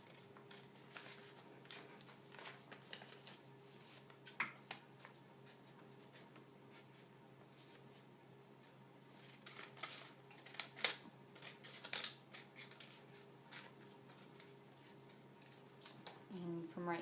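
Scissors trimming fabric and a paper foundation pattern for quilt piecing, a series of quiet snips and crisp paper rustles at a steady pace, close by.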